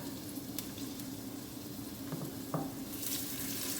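Onion, bell pepper and garlic frying in a pan, a continuous crackling sizzle with a couple of light utensil taps.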